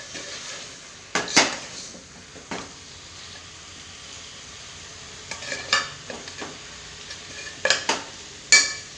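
Masala being stirred in a cooking pot at home, with a spoon scraping and clinking against the pot in short separate bursts between quiet gaps, close and clear, and no talking.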